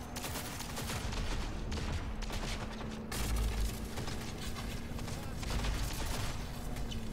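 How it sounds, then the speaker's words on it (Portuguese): Dense, rapid bursts of gunfire in the video game Cyberpunk 2077 crackle continuously with occasional deeper booms, a steady low hum running underneath. "cadê o barulho do tiro? Agora tá aparecendo"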